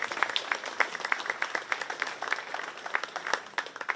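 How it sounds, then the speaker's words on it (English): A round of applause for market heifer exhibitors at a 4-H beef show at a county fair, with many hands clapping in a brisk, steady patter that carries moderately loud from a modest crowd. "give these market heifer exhibitors a round of applause"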